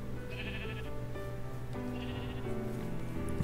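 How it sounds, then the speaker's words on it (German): Minecraft sheep bleat in a snowy game world, with two nasal bleats spaced about a second and a half apart over a steady background of game music. "Hier sind noch mehr Schafe."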